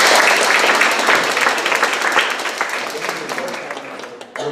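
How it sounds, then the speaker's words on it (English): A round of applause from the audience at a youth end-of-year gala, dense clapping and cheering filling the whole stretch and slowly thinning toward the end. "So a round of applause for Steve,"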